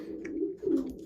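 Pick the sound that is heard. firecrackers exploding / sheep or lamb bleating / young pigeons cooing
young pigeons cooing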